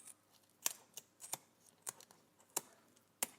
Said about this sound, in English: You need a nice, sharp kitchen scissor to do this job.